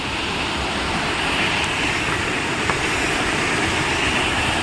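Waterfall at Netarhat in Jharkhand roaring as a loud, steady broadband wash of falling water, constant throughout with no speech.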